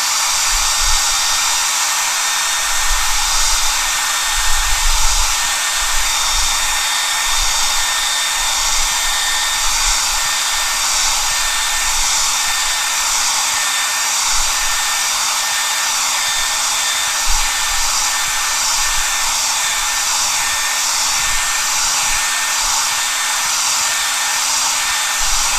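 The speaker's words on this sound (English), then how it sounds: "I think I need to blow dry this" A hair dryer blows steadily and loudly over acrylic paint on a canvas, a constant close whirring hiss with a faint hum, running alone without pause.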